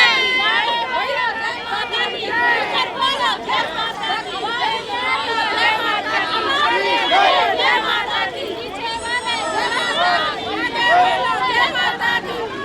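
Dense crowd chatter fills Kalkaji temple in Delhi during Navratri, many overlapping voices in a close, loud, continuous hubbub with no pauses.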